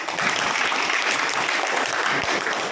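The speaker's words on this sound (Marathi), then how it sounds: "जोरात टाळ्या व्हायला पाहिजे, जोरात." Dense, steady applause from an audience at a gathering, many hands clapping at once in a continuous roar that holds at the same level for about three seconds with no talk over it.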